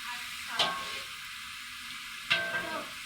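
Cauliflower cooking in a pan in a home kitchen gives a steady background sizzle, with two sharp scraping stirs of a utensil standing out above it.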